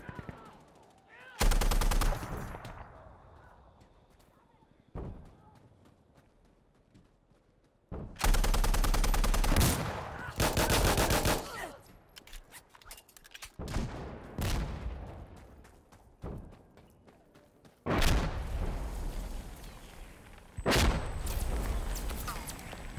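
Bursts of automatic gunfire and heavy artillery blasts in the shooter game Insurgency Sandstorm, loud and close, in repeated volleys separated by quieter gaps, with some talk between them.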